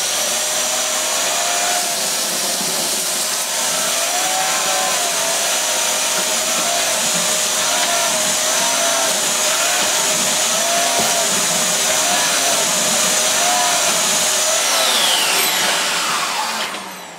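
A Dyson DC54 Cinetic vacuum cleaner runs with its turbo tool, a loud, steady, close whine lasting throughout before it cuts off at the end.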